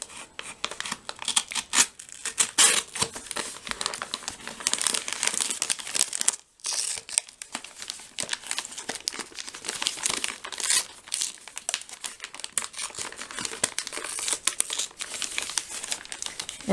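Crinkling and cutting of a foil-lined ration pouch from a Canadian IMP meal, heard up close as a steady crisp rustle with sharp snips and crackles and a brief pause midway, with no talk.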